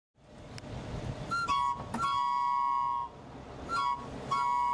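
Short tonal whistle blasts from an old-fashioned delivery truck in Huntington Beach repeat in pairs over a low rumble, fairly close and moderately loud.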